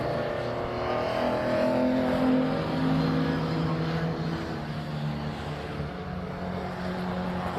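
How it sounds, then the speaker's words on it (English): Race cars in a BCV8 Championship race lap the Snetterton 300 circuit, engines droning loudly and continuously with rising and falling revs as they pass, heard without talk. "you can see the cars just going round now"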